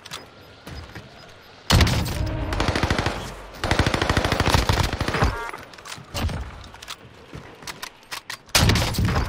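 Gunfire in the video game Warzone comes as loud, rapid automatic bursts with sharp single shots between them, repeated across the stretch with short pauses.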